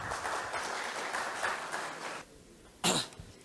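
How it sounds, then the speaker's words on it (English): Applause from a conference audience in Chennai, a dense round of clapping that fades out after two seconds, followed by a sharp cough nearby. "Big round of applause,"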